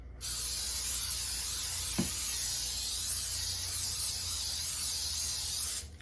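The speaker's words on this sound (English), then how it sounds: "So spray your pan." A continuous spray of cooking oil from an aerosol can, one long steady hiss lasting several seconds, close by, with a light tap partway through.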